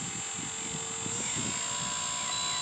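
A Horizon UMX Cessna 182 RC plane taking off, its small electric motor giving a steady high whine over a continuous low rumble.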